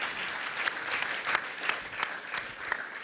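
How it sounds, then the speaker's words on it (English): An audience applauds steadily, a dense patter of many hands clapping with a few sharper claps standing out, no talking over it. "Let's give her a round of applause."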